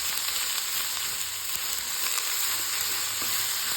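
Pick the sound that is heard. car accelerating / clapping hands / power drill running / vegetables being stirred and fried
vegetables being stirred and fried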